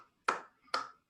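Two sharp, close hand claps, about half a second apart, each crisp and alone against silence.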